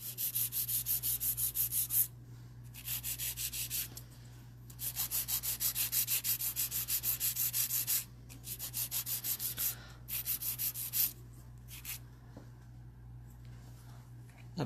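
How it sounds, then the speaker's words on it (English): An air-driven nail e-file sands gel nails in repeated close, rhythmic buzzing strokes, each lasting a second or two and separated by brief quieter pauses, over a low steady hum. "Your e-file is so quiet. That's because it runs on air,"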